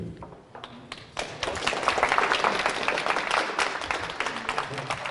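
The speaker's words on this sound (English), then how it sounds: "I think applause for Gregorio" Scattered claps swell into sustained applause after the first second for Gregorio, departing at an IT meetup webinar on machine learning, with taps and thuds mixed in and a voice or two under the clapping.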